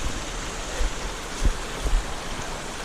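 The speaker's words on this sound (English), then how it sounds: "So it comes out of there, just a mountain of water." Water gushing down Armageddon Creek by a nozzle outlet, a steady broadband rush like a stream or small waterfall, continuous and fairly close, with a few low thumps and no voices.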